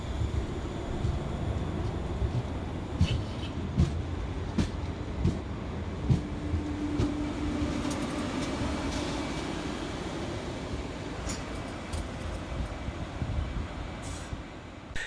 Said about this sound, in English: Whilst arriving behind us for Scotrail is 380-105, working the 1622 Scotrail service from Neilston through to Glasgow Central.